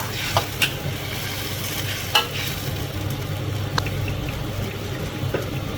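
Light soy sauce goes into a stir-fry of braised mixed cabbage, bringing a soft steady sizzle under a few faint clinks and scrapes of stirring, no talking.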